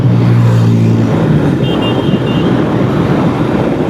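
A vehicle overtakes a motorbike on a road in Bangladesh, its engine rising loud and close under steady wind rush and the bike's own drone, with a low tonal hum early on that fades as it passes.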